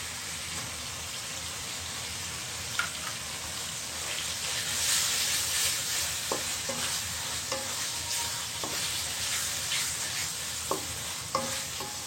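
Beef singara filling with cooked-down spices sizzles in a pan as beetroot is added, a steady close frying hiss broken by repeated scraping stirs and spoon taps.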